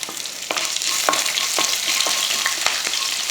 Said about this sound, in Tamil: அருமையாக இந்த மாதிரி வதக்கியாச்சு